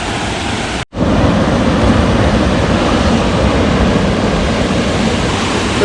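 Steady, roaring rush of a waterfall in Zion National Park fills the whole clip, broadband and constant, broken only by a brief dropout near the start.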